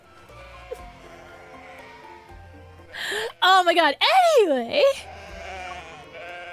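Sheep penned behind a wooden fence let out loud, wavering bleats in a burst of several calls midway through, following and overlapping with speech before and after.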